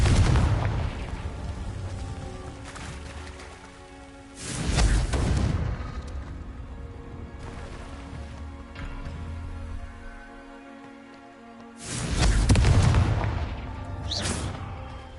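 Two heavy booming blasts from Confringo fire spells in Hogwarts Legacy, each a loud deep burst with a rumbling tail, separated by quieter ambient game sound.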